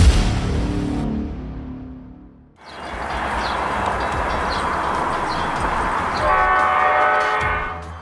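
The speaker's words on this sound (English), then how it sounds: "A girl narrowly avoided being hit by a Metra Express train as she ran across the tracks" A Metra Express passenger train rushes past on railroad tracks, loud and close, with a steady roar of wheels and cars, a sharp whoosh as it arrives after a near-silent pause, and a horn tone sounding toward the end.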